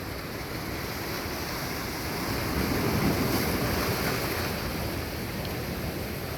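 Ocean surf at high tide at Coconut Island in Hilo, Hawaii, washing in steadily with a broad roar and slight wind buffeting, swelling a little louder midway, with no talking.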